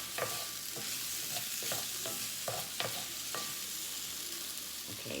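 Beef browning in oil in a Dutch oven, a constant bright hiss with regular light scrapes of a utensil stirring the meat, close and even in level with no talking.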